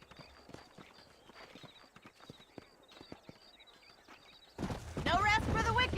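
Horse hooves clip-clop in a steady walking rhythm in Red Dead Redemption 2 gameplay, fairly quiet at first, before a louder burst of voices and noise takes over near the end.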